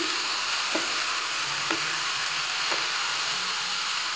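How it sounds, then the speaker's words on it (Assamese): Flour and black lentils frying and being stirred in a pan, a steady soft sizzle and hiss with a few faint scraping strokes of the spoon spaced about a second apart. "এতিয়া ধুনীয়াকৈ লাৰি দিম আৰু অকণমান ভাজি ল'ম"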